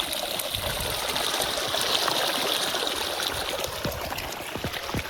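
Water runs in a steady, close-up rushing stream just after being switched on at an outdoor village picnic, with faint splashes and no talking.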